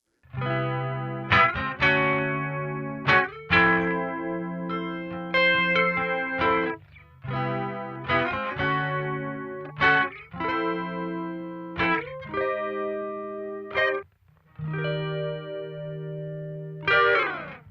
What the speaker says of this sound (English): if we dial the mix back, we get our nice chorus